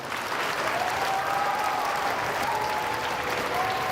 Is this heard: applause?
yes